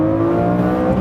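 A loud, close 6.2-liter V12 engine of a Lamborghini Murciélago holds a sustained high-pitched howl, smooth and steady throughout.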